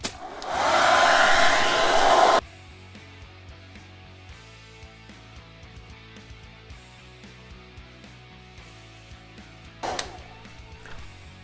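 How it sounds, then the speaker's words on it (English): A blow dryer connected to a hooded hair dryer roars loudly for about two seconds, then shuts off, leaving soft tapping and handling noises with one brief burst near the end. "it's a blow dryer connected to this and it goes up to the hooded dryer"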